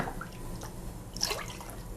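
Prepared broth pours into a pot for making rice-flour paste for kimchi, a faint, soft liquid trickle with a few small drips and splashes that ends quickly, with no one speaking.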